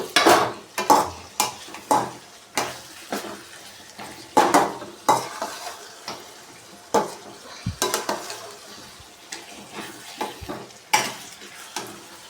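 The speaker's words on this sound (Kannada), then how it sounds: "ಒಂದೆರಡು ನಿಮಿಷ ಆ ಕಡೆ ಈ ಕಡೆ ಬಾಡಿಸ್ಕೊಂಡ್ರೆ ರೆಡಿ ಆಯಿತು" Onions stir-fried with green chillies for onion rice: a spatula scrapes and clacks against the pan in repeated irregular strokes over a low steady sizzle, close by, with no talking.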